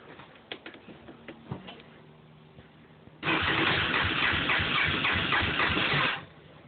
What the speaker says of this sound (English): she's making a clunking noise when I push the start button